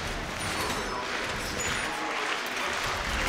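A live esports crowd at the Rainbow Six Pro League Season 9 grand final between Team Empire and Evil Geniuses roars and applauds in a loud, continuous wash of cheering.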